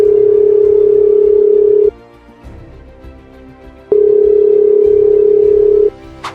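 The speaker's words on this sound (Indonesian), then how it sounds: "Coba aku telepon deh." The ringback tone of an unanswered phone call: two steady, loud electronic tones, each about two seconds long, separated by a two-second silence, with no one speaking.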